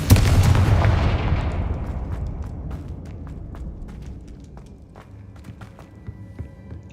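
Confringo blasting-spell explosions in the video game Hogwarts Legacy: a loud booming blast up front that rumbles and slowly decays, followed by scattered sharp cracks and thuds, with no talking.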